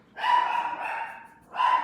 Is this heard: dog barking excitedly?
yes